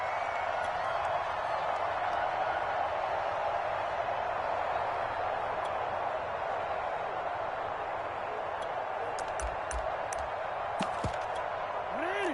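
Stadium crowd noise at an NFL football game in Baltimore, a steady dense roar and murmur of many spectators throughout, with a few brief sharp ticks and a voice-like tone near the end.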